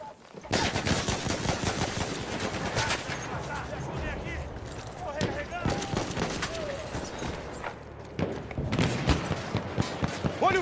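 Rapid automatic gunfire from a weapon in the video game Battlefield 1 rattles almost continuously at close range and stays loud throughout, with game voices and shouting mixed in.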